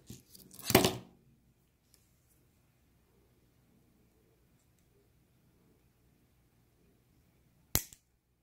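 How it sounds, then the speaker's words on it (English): Wire cutters snip through craft wire during a holly-and-berries wire-wrap piece: two sharp, close clicks, one near the start and one near the end, with near silence between. "I'm going to see if I can snip it off closer."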